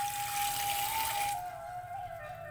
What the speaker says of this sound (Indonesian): Setelah dirasa cukup, kita cuci lagi ya lelenya.